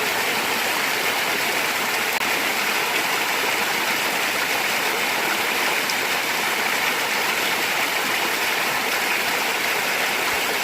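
Loud, steady rush of creek water flowing over rocks at a gold-panning stream, a continuous broadband roar that stays unbroken throughout with no voices.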